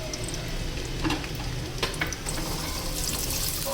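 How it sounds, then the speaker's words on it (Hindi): Chopped onion fries in oil in a pan, giving a steady close sizzle with brief scraping stirs and clinks over it, continuous throughout with no talk. "ये देखिए प्याज को मैं थोड़ा सा भून रही हूँ, ताकि थोड़ा सा हल्का सा कलर आ जाए"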